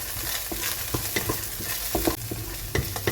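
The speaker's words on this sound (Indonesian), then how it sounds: "Sekarang baru kita tumis perbawangannya." Onion and garlic spice paste sautéing in a pan, with steady sizzling and frequent stirring scrapes and clatters throughout, close and alone with no talk.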